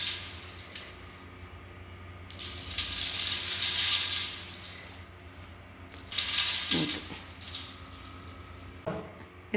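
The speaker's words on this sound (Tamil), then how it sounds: "இப்போ இந்த மோரை ஊற்றிடலாம்." Buttermilk made from whisked, salted curd poured over chillies for sun-dried mor milagai, heard as a few separate splashing, hissing bursts of liquid, fairly close, with quiet gaps between pours and no talk.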